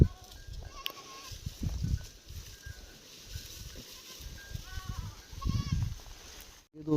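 Goats on a goat farm in Uttarakhand give several short, nasal bleats scattered through the clip, some close and fairly loud, with rustling and faint human sounds in between.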